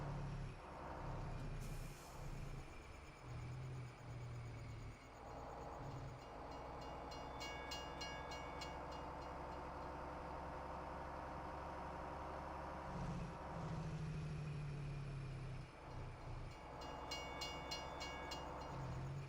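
In Farming Simulator 17, a train rumbles past a level crossing for a long stretch, with rhythmic clanking of wagons and a bright crossing bell coming and going.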